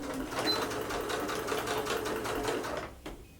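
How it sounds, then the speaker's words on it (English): A sewing machine stitches a pleated fabric rectangle onto a flat rectangle, a steady close whirr of fast, even needle strokes that runs for about three seconds and then stops. "Now we're going to sew from one end to the other of the rectangle just to get the pleated rectangle stitched onto the flat rectangle."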